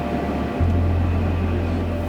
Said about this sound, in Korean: 이 기차를 안 타고 싶다라는 생각도 들려 가끔